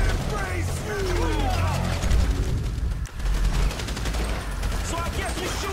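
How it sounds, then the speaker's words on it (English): Dense, sustained gunfire from a shootout in GTA V fills the scene, with rapid overlapping shots and bursts continuing throughout at steady loudness, mixed with shouting voices and game effects. "So I guess we're shooting our way out of here!"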